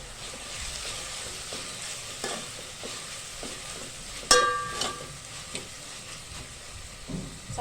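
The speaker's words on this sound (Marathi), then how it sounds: "चांगली आपल्याला आता ही पेस्ट चांगली परतवून घ्यायची, सुकं खोबरं आणि लसणाची" Garlic and dried coconut paste being sautéed and stirred in a pan, a soft steady sizzle with repeated scraping strokes of a spoon and a brief metallic clink near the middle.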